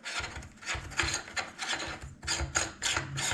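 A castle nut on an AR-style buffer tube of a Mossberg 715P is screwed down, giving rapid, close, rhythmic ratcheting clicks and scraping in repeated short bursts.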